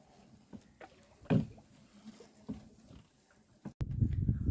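A small boat moves along a narrow tidal canal in the Sundarbans on a fishing trip. Soft, scattered wooden knocks and water sounds give way to a louder, continuous rush of water near the end.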